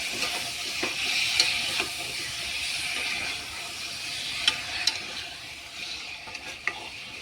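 Mutton stirred in hot oil with turmeric and salt in a pan, a steady close sizzle broken by a few sharp scraping clicks of the spoon, with no talking.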